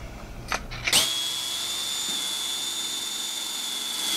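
A couple of short knocks, then a small drill spins up into a high, steady whine that holds close and continuous to the end.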